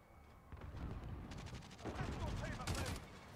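Gunfire in the Call of Duty Modern Warfare multiplayer video game: dense, rapid bursts of shots crackle close and loud across the whole clip, with the firing growing heavier toward the end.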